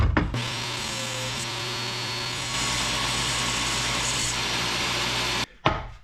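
A power saw cuts a small corner off a piece of wood for a boat's cabin top. The motor whines steadily and loudly for about five seconds, the pitch shifts slightly partway through, then it stops and a short clatter follows.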